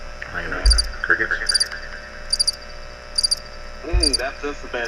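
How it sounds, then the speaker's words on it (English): Quiet, regular bursts of high chirping repeat in a steady rhythm against a faint background, with a couple of low thumps. "Crickets."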